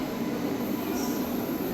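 Train at Renigunta railway junction in the early morning, a steady loud rumbling hum of rolling stock with a faint high whine, no speech.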